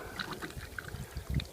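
A portable gravity-fed tree watering system lets water flow out in a quiet, uneven trickle and pour, with soft splashes and bubbling drips close by.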